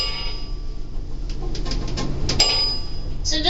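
An elevator bell rings in a cab, a single bright ding over steady machinery hum, with a few clanks and a second fainter chime near the end.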